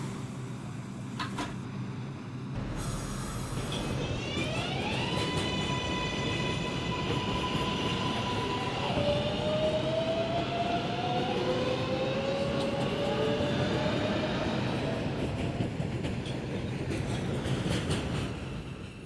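A Reventon-bound 6 local subway train pulls away with a loud rumble, and its rising motor whine climbs in pitch and holds for many seconds. Door and car clunks come early, then a steady roar of wheels on track continues with no talk.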